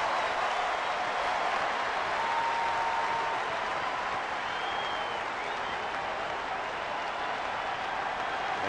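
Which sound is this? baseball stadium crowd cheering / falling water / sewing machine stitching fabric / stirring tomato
baseball stadium crowd cheering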